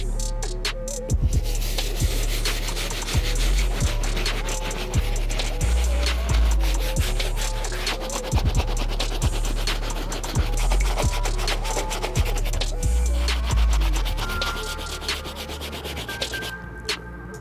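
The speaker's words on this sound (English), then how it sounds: "we're gonna start off by using our soft bristle brush to start breaking down the grime and dirt all around the uppers and inside" Soft bristle brush scrubbing surface grime off the uppers of an Air Jordan 2 Chicago sneaker: continuous close, dense scratchy rubbing with quick back-and-forth strokes and no talk.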